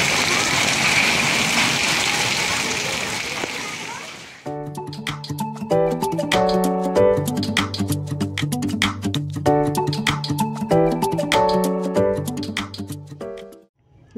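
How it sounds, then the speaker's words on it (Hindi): Hailstones fall in Haldwani with a dense, steady hiss and patter for about four seconds before music abruptly takes over. "ओले गिर रहे हैं।"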